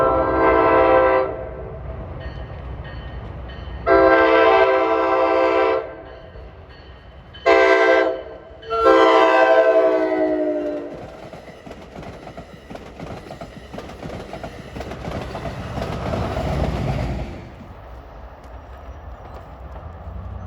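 NJ Transit F40PH-3C locomotive sounds several long, loud horn blasts in sequence, then rumbles past with clattering wheels and rising rail noise before fading.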